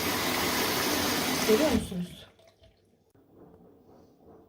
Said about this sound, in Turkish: Şu anda durulamak için su alıyor.